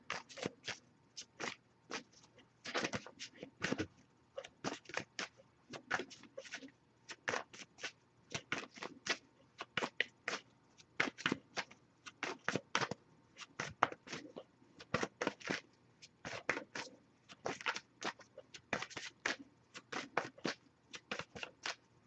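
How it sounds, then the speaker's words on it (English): A deck of oracle cards being shuffled over and over, with dense bursts of crisp riffling clicks coming in quick irregular runs, close and clear, with no talking. "I'll give it a few more shuffles"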